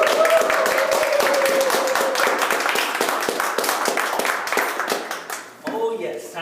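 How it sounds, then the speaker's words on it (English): A standing audience at a chef's chocolate presentation claps quickly in a brisk, steady rhythm. A voice talks over the claps, and the applause thins out near the end. "let's do a quick clap and get this thing going."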